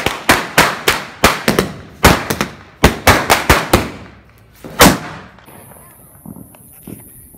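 A string of Diwali firecrackers goes off in a rapid series of sharp, loud bangs for several seconds, then trails into a few scattered pops and quieter background noise outdoors.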